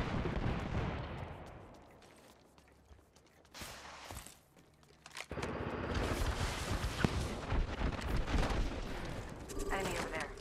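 Gunfire in the battle royale shooter Apex Legends, bursts of loud shots and clattering mechanisms that drop away briefly, then return as heavy sustained firing, with voices mixed in.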